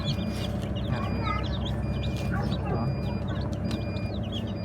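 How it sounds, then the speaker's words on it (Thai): Young Leghorn, black and fighting-breed chicks peep in thin, high chirps over a steady low hum from farm equipment, while someone talks quietly nearby. "นี่เป็นลูกไก่ครับ เล็กฮอนไก่ดำไก่ชนนะครับ"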